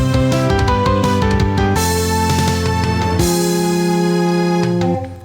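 The transition intro of the Love is War ending theme plays as loud, full instrumental music. Sustained chords shift through several sections over about five seconds, then the music fades quickly at the end.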